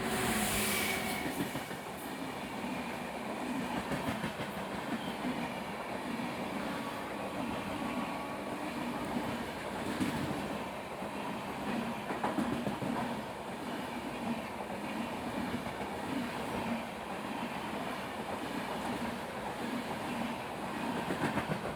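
A Konkan Railway train rolls past near Villavade, a steady loud rumble of wheels and carriages with clickety-clack rhythm sustained throughout, no voices over it.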